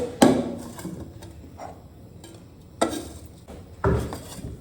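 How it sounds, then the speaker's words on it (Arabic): Tunisian masfouf couscous with dates, stirred in a pot as a utensil scrapes and clinks against the sides in a few separate, fairly close strokes with quiet pauses between. "نعاود نحرك توا الكسكسي متاعي"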